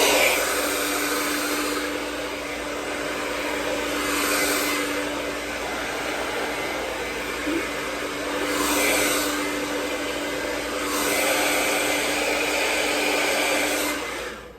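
A hair dryer blows continuously at close range, a steady whooshing hum that swells and dips slightly as it moves, with no talking.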